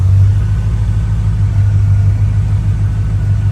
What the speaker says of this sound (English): Right, I'm going to go drive this thing now.